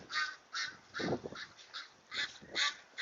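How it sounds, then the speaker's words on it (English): Muscovy ducks on a homestead call in a series of short, harsh, raspy bursts, about eight in three seconds, sounding somewhat distant and moderately quiet. "if you can hear them in the distance, these are the Muscovies"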